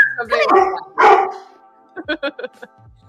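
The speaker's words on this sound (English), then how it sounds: "The old dog." An old dog gives a few short barks and yips near the start, then a quick burst of sharp yaps later, mixed in with people talking nearby.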